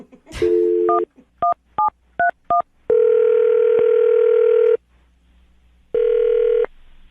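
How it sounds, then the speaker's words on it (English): A telephone gives a short dial tone, then a quick run of touch-tone dialing beeps, followed by two longer ringback tones with a pause between them, all loud and clear with no talk. "I'm going to dial the phone number right now"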